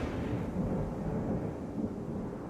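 Thunder rolls through a stormy scene in a horror video game, a deep, continuous low rumble that swells and fades at moderate level over light rain, with no speech.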